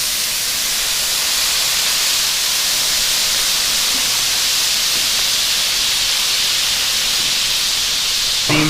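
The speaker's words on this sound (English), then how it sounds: "Steam's going to wash everything up to the surface" Water steaming and hissing on a hot Blackstone griddle during cleaning, a loud, steady broadband sizzle that holds evenly for several seconds with a faint scrape near the end.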